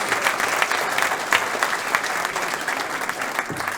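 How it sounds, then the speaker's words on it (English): An audience at a council awards ceremony gives a round of applause, a full, steady patter of many hands clapping in a hall, fairly loud and continuous with faint crowd murmur. "Give her a big pool of applause."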